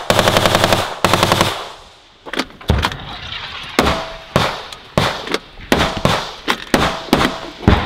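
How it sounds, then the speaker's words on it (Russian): Gunfire rattles in the trenches near Bakhmut: two sustained bursts of automatic fire open, followed by a series of loud, sharp single shots and short bursts at irregular intervals, close by. "там стреляет"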